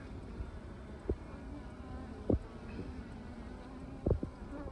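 Honey bees buzz steadily around an open hive while a brood frame is lifted out, forming a low continuous drone with a few brief louder bursts as individual bees pass close by.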